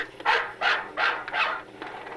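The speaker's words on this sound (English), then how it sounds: "So the sheep went bark, bark, bark because I skipped the record." A multi-groove roulette record skips on playback, repeating a short recorded sheep sound as four evenly spaced, bark-like bursts, fairly loud and with nothing else heard.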